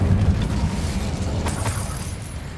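A fiery Incendio spell blast in a video game: a low, rumbling burst that rolls on and dies away, with a few sharper crackles coming through the middle of the blast.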